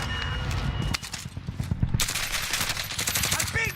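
Gunfire in the video game Call of Duty Warzone, loud rapid automatic bursts that run almost continuously and sharpen into denser fire halfway through, with a voice speaking briefly underneath.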